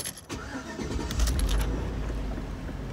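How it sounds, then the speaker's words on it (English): A Chevrolet or GMC truck (Yukon, Tahoe or Silverado) with a faulty HVAC system is started: a brief click and crank, then the engine catches and settles into a loud, steady idle close by. "I'm going to turn the car all the way on."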